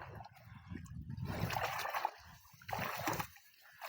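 Water splashes and sloshes in uneven surges as children wade through a flowing river carrying buffalo fodder, fairly faint, with a soft murmur of current.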